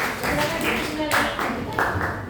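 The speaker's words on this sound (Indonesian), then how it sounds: "tepuk tangan untuk kelompok 2" Students in a classroom giving group 2 a short burst of hand clapping, loud and close, lasting a couple of seconds.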